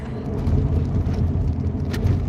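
Steady low road rumble of a car cruising on Interstate 495 toward Long Island, a continuous close engine and tire drone with no speech.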